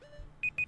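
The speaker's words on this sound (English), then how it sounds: "hit reset on that to stop the beeping at least" Short electronic beeps sound in a rhythmic repeating pattern over faint background tones while Zelda: Ocarina of Time is being played, with about three evenly spaced bleeps near the end.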